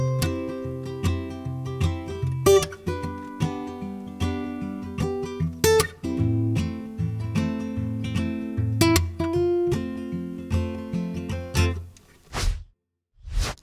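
A solo acoustic guitar plays the fingerstyle interlude of a song with plucked melody over a bass line, clear and close, with a few percussive string slaps along the way before the phrase ends.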